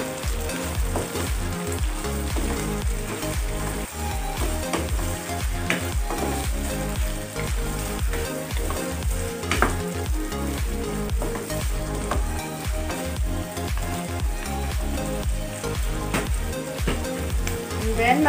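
Pork with onion leaves, oyster sauce and soy sauce stir-frying in a pan, a loud dense continuous sizzle with rapid crackling and the rhythmic scrape of stirring, close up and unbroken throughout.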